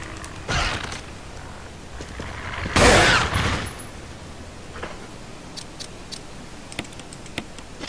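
A grenade fired at enemies in the Resident Evil HD Remaster video game gives one loud burst near the three-second mark, preceded by an earlier thump, with faint sharp ticks and clicks afterward.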